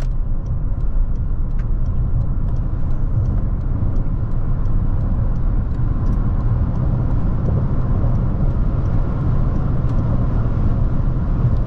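Inside a 2023 Toyota bZ4X electric crossover as it accelerates, a steady low road rumble and tire roar fill the cabin, even and continuous with no engine note and no talk.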